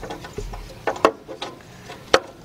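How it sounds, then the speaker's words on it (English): A 1/4-inch drive ratchet with a 10 mm socket backs out a bolt deep under a 2005 Nissan Pathfinder 4.0 near the left catalytic converter: a few sharp, close metallic clicks and ratcheting rasps, spaced irregularly. "we're gonna go back down here with our 10 millimeter, 1/4-inch drive"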